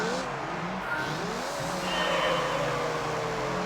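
A harsh, buzzing Volkswagen Lupo engine in the video game Gran Turismo 3 drones steadily throughout, rising a little in pitch as it revs, with faint tire noise beneath.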